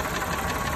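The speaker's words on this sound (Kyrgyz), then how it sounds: "Мотору жакшы иштеп турат." A car engine idles steadily up close, a constant dense rumble and hum with a slight knocking texture and no voices.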